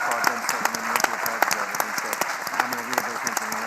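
An audience claps for festival volunteers in a dense, sustained round of applause with sharp individual hand claps close by, steady throughout.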